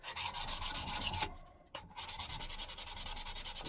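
Sandpaper rubs back and forth on a metal axe head in quick, close, rhythmic strokes, with one brief pause before the scraping resumes.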